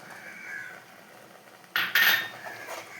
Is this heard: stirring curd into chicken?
yes